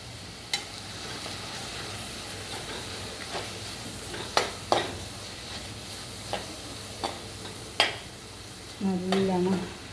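Turmeric powder being stirred in a frying pan while cooking palak paneer, with a soft steady sizzle and several sharp scraping clicks of a spoon against the pan, ending in a brief louder scrape.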